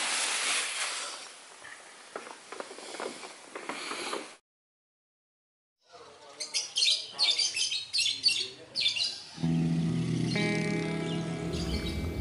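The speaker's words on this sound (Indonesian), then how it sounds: "Suara kicauan burung ditemani kabut tipis membuat suasana pagi menjadi syahdu." Birds chirp and tweet in the morning in a misty village on the slopes of Mount Slamet, Central Java, fairly close and lively, with a brief silent gap and a mechanical hum joining toward the end.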